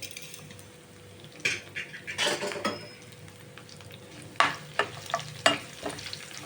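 Three small dried red chillies fry in hot oil in a pan, with soft crackling under scattered sharp clinks and scrapes of a spoon stirring against the pan, close and irregular, no talking.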